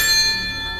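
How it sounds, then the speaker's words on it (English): A single strike of a bell in Bram Stoker's Dracula castle, ringing out close and clear with a bright metallic tone that slowly fades. "in Dracula's castle, this bell was meant that if you rang the bell"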